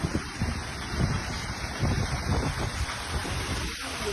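Heavy wind buffets the microphone at night in Nilakkal during a downpour, a dense continuous roar of gusts and rain with no clear talk.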